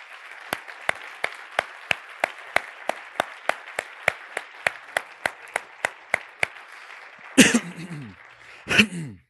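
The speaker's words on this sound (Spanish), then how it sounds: "les damos un fuerte aplauso de bienvenida a todas esas personas" Claps welcoming visitors at a church gathering: a slow, evenly spaced run of about twenty single sharp claps, close and distinct, followed by two louder bursts of noise near the end.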